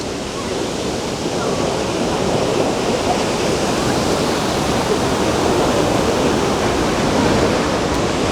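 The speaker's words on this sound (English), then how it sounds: "That is a big waterfall." A big waterfall near Portland, Oregon rumbles loudly and steadily, a dense roar of crashing water that fills the whole scene without pause.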